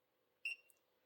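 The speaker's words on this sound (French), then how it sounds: "Ça, c'est le bip qui est sur votre GPS," Drone's GPS tracker gives a single short, high-pitched electronic beep, close and clear against near silence, with a faint second chirp just after.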